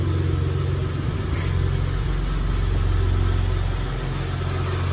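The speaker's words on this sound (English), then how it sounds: "So I'm gonna turn the truck on and see if that side gives me a rattle or not." A 2019 Ford truck engine idles steadily up close, a constant low rumble holding even throughout with no clear start captured.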